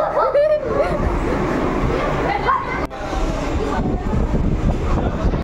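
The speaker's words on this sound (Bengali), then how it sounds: "ওই যে ট্রেন ঢুকছে।" A train pulls into a station during festival-time travel, its rumble and clatter running under chatter and crowd noise on the platform, with one sharp knock midway.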